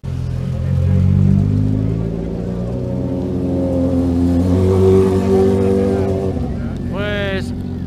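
Rally cars on the Subida a Chantada 2021 hill-climb course drone past loudly, engines holding steady tones before rising in pitch as they accelerate, while someone talks over the roar.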